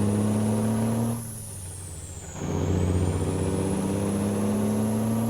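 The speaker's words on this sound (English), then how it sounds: "I love this Cummins Big Cam from SlavJerry" A Cummins Big Cam diesel pulls an International 9600 cabover truck in American Truck Simulator, a loud, steady engine drone that drops briefly during a gear change, then climbs back as the revs rise with a faint high whine.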